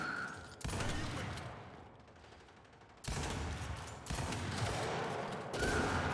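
Rapid bursts of automatic gunfire in the Gears 5 video game during a ranked Team Deathmatch match, two loud sustained volleys separated by a quieter gap, with a third burst at the end.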